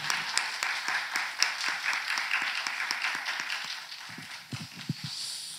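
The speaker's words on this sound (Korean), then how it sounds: "우리 좀 박수 소리가 들리도록 여러분 박수를" A church congregation claps together during a Sunday service, a fairly faint, continuous patter of many hands lasting several seconds with a few louder individual claps toward the end.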